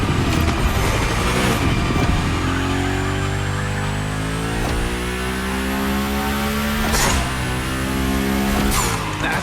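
The Hoonicorn sliding in a Gymkhana video game, a loud roaring engine rising and falling through gear changes under steady tire squeal and skidding, close and continuous for the whole stretch.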